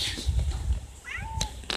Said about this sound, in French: Qui c'est qui miaule?